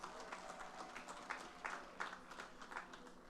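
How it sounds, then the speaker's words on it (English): Light scattered applause from a crowd at a St. James PNM local government election meeting, marking CARICOM's 50th anniversary, heard as a soft, fairly distant patter of clapping with no talk over it. "Let's give that a round of applause."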